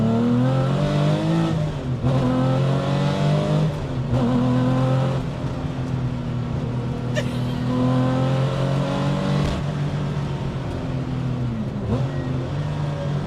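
A Porsche 993-based race car engine revs hard and repeatedly, climbing through high-pitched wails, dropping, then surging again, loud and close with a raspy mechanical edge.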